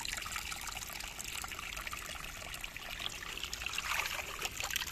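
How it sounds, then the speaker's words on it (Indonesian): Clear cold spring water welling up through a concrete bridge deck and spilling over it, a steady close trickling and gurgling flow with no voices over it. "Jadi kan aneh ini kok tiba-tiba muncul ada air di sini lur"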